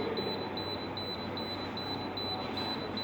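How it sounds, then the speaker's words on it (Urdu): A DSE 7320 generator controller sounds its alarm for a high coolant temperature fault, a rapid string of short, evenly spaced high-pitched beeps repeating steadily over a constant background hum. "جب یہ الارم تھوڑی دیر چلتا رہتا ہے اور اس کو آپ ریسیٹ نہیں کرتے"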